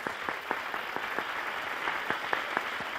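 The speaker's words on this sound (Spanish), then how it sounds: "Ahí está, un aplauso para ellos." Studio audience on a Spanish TV quiz show applauding, a steady dense wash of clapping with sharper individual claps popping out, moderately loud and continuous throughout.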